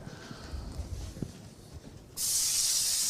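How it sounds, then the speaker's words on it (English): Oil sizzling in a hot frying pan, ready for fish: low spits and crackles at first, then at about two seconds a loud, steady broadband hiss takes over and holds close and constant to the end. "As you can see, nice and hot. You can see it sizzling away."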